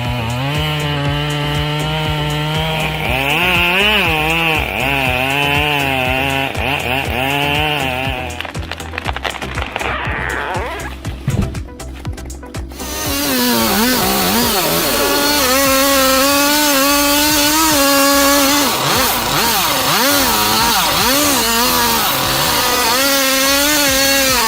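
Chainsaw cutting and felling a large storm-damaged Douglas fir, the engine revving loud and close with wavering pitch, dropping briefly to a low idle with rough cracking before roaring back into a sustained cut.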